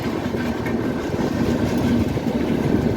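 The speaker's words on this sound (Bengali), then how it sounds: "কত বড় ট্রেন" A large train rolls past close by at a fair, a loud steady rumble with rhythmic clickety-clack of wagon wheels over the rails lasting the whole moment.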